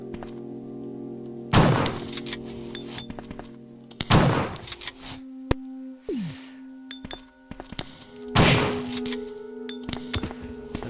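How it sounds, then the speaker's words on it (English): Shotgun blasts in the Bio Hazard video game: three loud, booming shots spaced a few seconds apart, with mechanical clanks and a reload clatter between them, and no voices. "Why am I wasting so many shotgun shells?"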